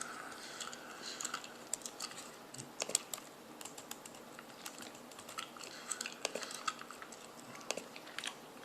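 Quiet, steady typing on a computer keyboard while entering a math equation, with irregular light key clicks and occasional louder taps, no voices.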